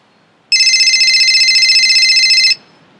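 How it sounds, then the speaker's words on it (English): A loud electronic telephone ring, a single continuous warbling trill lasting about two seconds and then cutting off, heard alone in a quiet room. "It's the phone."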